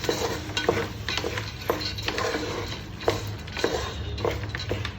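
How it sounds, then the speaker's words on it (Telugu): Soaked mung beans frying in a pan with no water, stirred steadily: a continuous soft sizzle with repeated scraping strokes of a spoon against the pan, close and moderately quiet, without talk. "ఒక నిమిషం పాటు నీళ్లు పోయకుండా పెసలు కూడా మంచిగా ఫ్రై అయ్యేవాళ్ళు"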